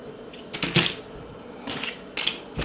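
Scissors snip a strip from a sheet of bling sticker material for candy apple or cake pop sticks, giving a few close, crisp cuts in separate bursts with no talk.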